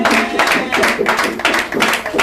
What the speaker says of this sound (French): Célébrons Jésus par les acclamations